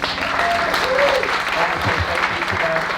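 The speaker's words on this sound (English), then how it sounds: "let's give these people a round of applause" Indoor audience at a live RV-living Q&A session at the Lippert Getaway breaks into a brief, loud round of applause, an even wash of clapping with faint voices underneath.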